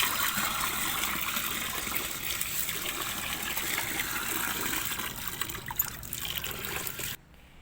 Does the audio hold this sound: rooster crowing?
no